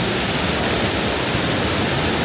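Steady broadband rush of water spraying from a decorative water feature at a California theme park, a continuous close hiss with no pauses and no talking.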